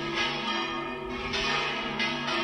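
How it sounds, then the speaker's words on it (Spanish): A church bell in a small town rings with full, sustained, overlapping metallic tones. The loud strokes blend into a continuous ringing that swells again at intervals. "Acá tocan la campana."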